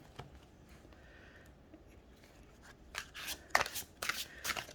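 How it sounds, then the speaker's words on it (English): Long, slippery tarot cards being shuffled: quiet soft rustling early on, then a run of brisk riffling bursts in the last two seconds, close and alone with no talk. "They're not wide cards, but they are long cards, but they're easy to shuffle."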